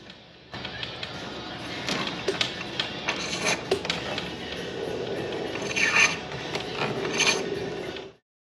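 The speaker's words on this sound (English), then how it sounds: "I'm just going to pull these conductors from the handhole up to my switch box" Electrical conductors are pulled through conduit from a handhole up to a switch box while repairing garage wiring, a stretch of rubbing and scraping with irregular squeaks and rustles, close and moderately loud, ending abruptly.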